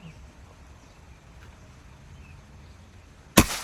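Air rifle, a double-power plenum Goblin model shooting at long range, firing its ninth shot: one sharp, loud crack near the end after a quiet outdoor lull.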